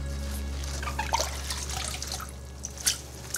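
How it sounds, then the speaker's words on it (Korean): Water drips and trickles from salted napa cabbage as it is wrung out by hand after rinsing, a soft, close run of irregular droplets and splashes against a steady low hum. "이렇게 잘 헹군 후에 이렇게 한번 물기를 쫙 짜주세요"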